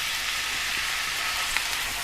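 Tomato puree paste sizzles and crackles steadily in a hot pan for a chickpea and spinach curry, a close, continuous hiss with no talking.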